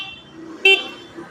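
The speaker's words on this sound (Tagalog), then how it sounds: "busina check natin" A Motorstar Easyride 150P motorcycle sounds one short, loud horn honk mid-clip over a low idling background hum.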